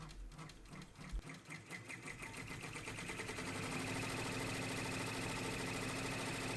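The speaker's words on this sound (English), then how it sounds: "the machine's going to go all the way around the same lines that it just sewed, and this is going to tack my fabric down" An embroidery sewing machine tacks fabric down for an in-the-hoop reindeer ornament, a loud, rapid, even stitching chatter that starts after a brief pause and runs steadily and close-up to the end.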